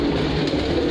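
Pigeons at a Pakistani pigeon club, including Neely kamagar birds, give a short, close, soft cooing burst with no voices.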